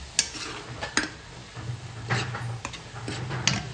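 Sweet raw mango pickle with jaggery being stirred in a pot as it cooks, a spoon scraping and knocking against the metal in irregular strokes over a soft, steady sizzle.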